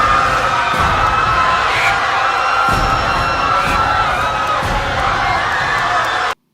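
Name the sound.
layered sound effects: flying swarm, vultures, panicked crowd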